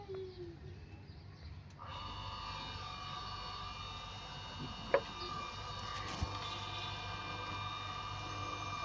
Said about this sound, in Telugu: చూసారు కదా, ఆన్ అయింది మోటార్ అయితే.